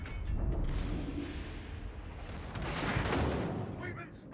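Battleship guns fire in World of Warships Legends, deep booming blasts with rumbling echoes rolling over a dense, loud battle background, with a voice speaking over the din.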